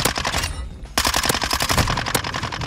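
Minibak submachine gun in Modern Warfare 2, loud rapid automatic bursts with a brief pause, then a long sustained stream of fast shots, close and dominant with no talking.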